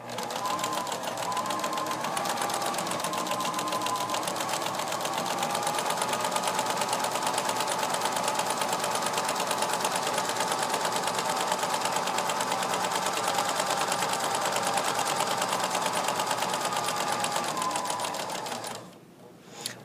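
A sewing machine runs a continuous zigzag stitch along a fabric seam to finish the raw edge, a steady close mechanical whir lasting nearly twenty seconds before stopping abruptly.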